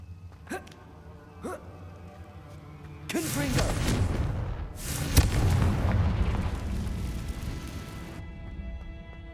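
A Confringo blasting spell explodes in the Hogwarts Legacy video game, a sudden loud boom followed by several seconds of roaring, rumbling blast noise after a few sharp pops.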